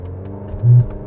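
A 2020 Alfa Romeo Stelvio Ti Nero Edizione with a 2-liter turbo engine accelerating without launch control: a steady low engine drone that swells into a brief louder surge near the end, close and without talk.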